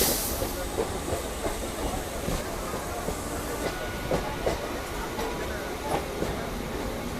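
A Kolkata local train on the Kharagpur to Howrah line runs along steadily, with a continuous rumbling hiss and recurring rhythmic wheel clacks throughout, close and fairly loud.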